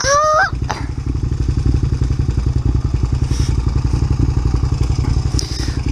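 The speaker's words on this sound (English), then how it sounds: "You can hear it. You guys hear that? The valves tapping?" Suzuki SV650 motorcycle engine idling close by, a steady low rumble with a fast rhythmic ticking clatter from the valves tapping, after a brief whine at the start.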